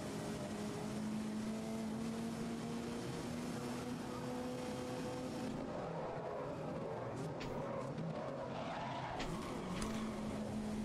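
A race car engine in the racing video game Grid holds a steady drone, then shifts and revs through changing pitches, loud and continuous throughout.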